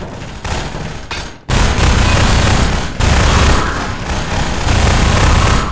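Loud bursts of gunfire and a heavy grenade blast in the Riot Act shooter game, dense crackling noise with brief dips between volleys, close and harsh, no talk.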